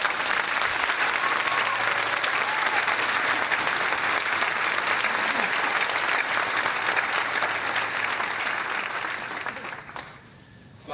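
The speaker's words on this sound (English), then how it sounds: "let's give the faculty and staff another big round of applause" A graduation audience at the 2018 Dwight Englewood commencement gives a long, sustained round of applause for faculty and staff, thick and steady for about ten seconds before quickly tapering off.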